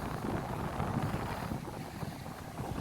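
On the beach at Saline-les-Bains, Réunion, strong wind rushes over the microphone in an unbroken, loud, coarse roar with small gusty surges throughout and no voices.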